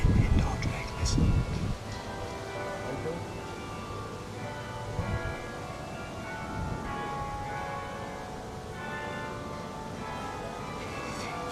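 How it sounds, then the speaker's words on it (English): Church bells ring in Dordrecht, a dense wash of overlapping tones sustained throughout at moderate distance, with light wind rustle and a brief burst of louder handling or wind noise near the start. "Bells ringing in Dordrecht."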